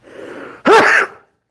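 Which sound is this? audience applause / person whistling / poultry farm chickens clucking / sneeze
sneeze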